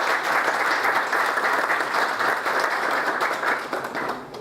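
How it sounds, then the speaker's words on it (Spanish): Dense audience applause, a steady roar of many hands clapping that begins to fade toward the end. "les pido un aplauso para Alexander Eisenstadt."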